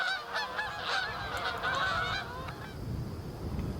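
Geese honk in flight, a flurry of repeated nasal calls overlapping for about two seconds, then fading into soft outdoor background noise.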